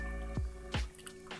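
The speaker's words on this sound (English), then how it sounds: "I'm gonna pour in the other half of the wet ingredients." Wet ingredients pour into cake batter in two soft, quiet splats about a third of a second apart, followed by a faint gloopy settling over a low steady hum.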